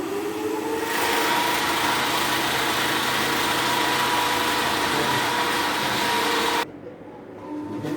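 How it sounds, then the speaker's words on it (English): A DC shunt motor switched on through a three-point starter runs up and hums with a steady, loud whine that holds for several seconds, then drops sharply to a quieter level near the end. "Switch on the 3-point starter, the motor starts running."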